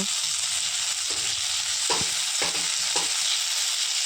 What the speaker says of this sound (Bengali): এখন একটু লেড়ে সেড়ে লাল লাল করে ভেজে নেব